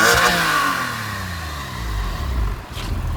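A 2001 Porsche 911 Carrera 4 (996) with Tiptronic gearbox revs loudly up close, its engine note sweeping and falling in pitch as the throttle is blipped and released.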